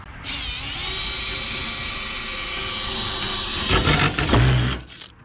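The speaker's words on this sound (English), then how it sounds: "I'm gonna drill some holes" A power drill whines steadily at high pitch, then briefly bogs down and revs as it bites into material before stopping.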